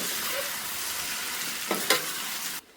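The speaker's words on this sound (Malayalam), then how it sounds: "ഇനി ഇത് നല്ലതുപോലെ ഒന്ന് മിക്സ് ചെയ്ത് കൊടുക്കാം." Vermicelli chicken pulao stirred in a pan, a soft continuous sizzle with scraping strokes of a spoon, two sharper scrapes near the end before it cuts off.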